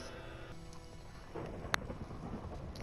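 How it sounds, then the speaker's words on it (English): A thunderstorm in the Minecraft Story Mode video game: a low, broad rumble of thunder swells in after a quieter windy start, with a brief sharp crack near the middle, and no voices. "I've never seen a thunderstorm like that."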